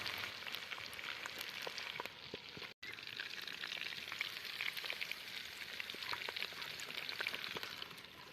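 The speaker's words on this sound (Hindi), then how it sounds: "इसे हम फ्राई कर लेंगे चिकन को।" Chicken pieces frying in ghee in a karahi give a dense, even hiss of sizzling with scattered tiny pops and crackles, steady and moderately close throughout.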